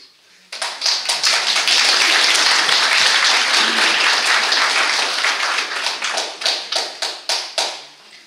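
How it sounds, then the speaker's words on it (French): Wedding guests burst into applause, a sudden dense round of clapping that holds steady and close, then thins into slower, separate claps before stopping. "Est-ce qu'on pourra applaudir? La réponse est oui"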